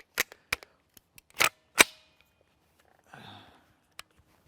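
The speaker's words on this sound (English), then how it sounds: "I'm going to shoot one of our Liberty Civil Defense and one of the L7A1." A CZ Scorpion Evo 3 S1 9mm fires several sharp single gunshots at a Level IIIA ballistic backpack, each crack short and loud with quiet gaps between, followed by a brief softer rustle and one last shot.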